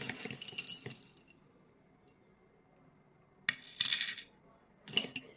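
Glass bangles clink and rattle as a scoop digs into a mixed container of bridal bangles: a brief jangle at the start, then a quiet pause before two louder clattering bursts near the end, with no talking.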